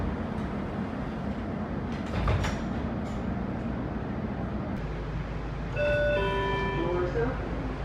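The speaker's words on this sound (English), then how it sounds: "Step back, doors closing." Washington Metrorail subway train sits with a low rumbling hum, then a rising multi-tone door chime sounds as the doors close and the train begins to move off, with a faint voice underneath.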